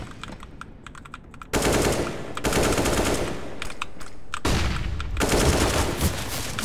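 Rapid automatic gunfire from a first-person shooter match, loud bursts of rattling shots that start suddenly and keep going in dense volleys with brief gaps.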